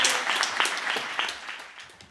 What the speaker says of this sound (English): I think we have an applause for Yes